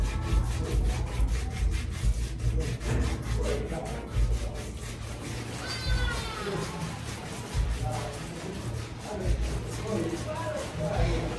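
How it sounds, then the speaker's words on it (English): A stone scrubs dead skin off feet in rural Uganda with a steady, rhythmic rasp of quick rubbing strokes, close and continuous throughout. "Clean off the dead skin from your feet."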